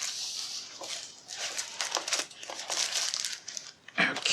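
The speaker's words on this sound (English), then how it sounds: "So we're going to take the covering off this." Crinkly plastic covering being peeled and pulled off a new Epomaker TH96 96-key keyboard, close-up bursts of rustling and crackling, uneven and intermittent.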